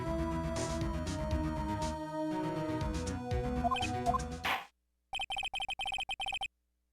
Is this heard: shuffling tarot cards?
no